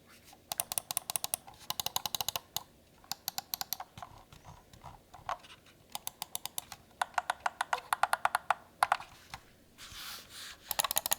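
Rapid bursts of sharp plastic clicks from a Fantech Helios gaming mouse button, clustered in quick runs separated by short pauses, close and fairly loud.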